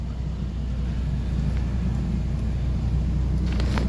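A car idles and rolls slowly along a road while easing around a cow, a low steady engine rumble held close and constant, with faint higher noise near the end and no talking.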